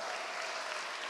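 A congregation applauding for the pastor's wife during an afternoon church worship service: a short, even burst of massed clapping, fairly faint and steady throughout.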